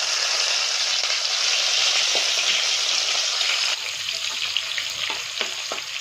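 Crushed cardamom, a piece of cinnamon and chopped tomato fry in a pan, a dense loud sizzle that settles partway through into a quieter hiss with light stirring clicks, no voices.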